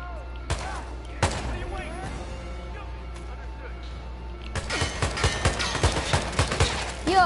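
AK rifle gunfire in Hitman 2: two isolated loud shots early, then a rapid burst of repeated cracks, with a voice talking over the game sounds.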